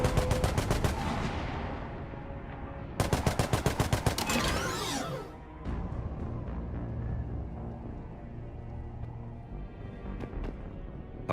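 Rapid bursts of mounted-gun fire from the video game Mass Effect 3, loud and close, with a sustained roaring barrage giving way to rumbling combat noise and scattered impacts.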